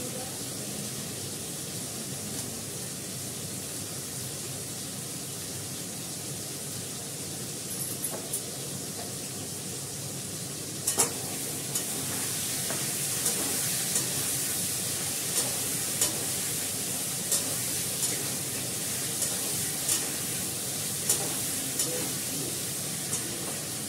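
Kashmiri chili powder sizzling as it fries in a pan, a continuous soft hiss with occasional small pops and stirring clicks, close and steady, with a voice heard faintly now and then.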